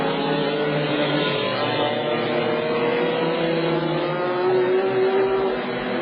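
FIA GT race cars at the Hungaroring roaring past at speed, a continuous loud engine drone with shifting pitch.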